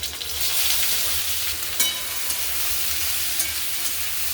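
Loud, steady sizzling of chopped onion frying in hot oil with crackled mustard seeds and cumin, a dense crackling hiss with a few sharper pops, no voices.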